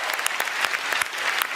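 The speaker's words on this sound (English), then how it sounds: "A big round of applause for the Toronto Police Services this evening." Debate hall audience applauding the Toronto Police Services, a dense, steady roar of clapping with sharp individual claps standing out throughout, loud and close, no voices over it.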